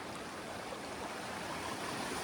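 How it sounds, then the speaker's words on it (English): A mountain brook flows at a hiking trail water crossing, making a constant broad rushing wash, moderately loud and unbroken, with no talking. "Beautiful bumbling brook."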